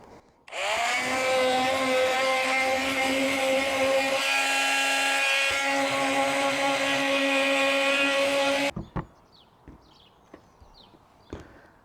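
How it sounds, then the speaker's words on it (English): A power sander works hardened fiberglass on a camper roof with a loud, steady, high-pitched whine lasting about eight seconds. It cuts off abruptly, and a few faint knocks and clatters follow. "so it's a case of giving it a sand and then I give it a skim of body filler."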